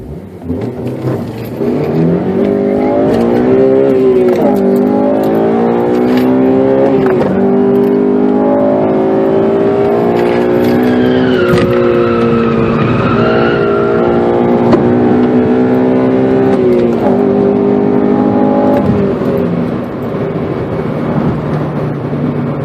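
A Honda Civic Si engine pulls hard through the gears on a road drive, rising whine climbing and dropping with shifts, loud and steady for over twenty seconds.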